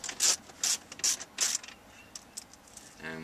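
Screws being backed out of a Mazda CX-7 stereo dash panel: a sequence of short, close ratcheting clicks from a hand tool, about half a dozen bursts, then fading to quieter rubbing.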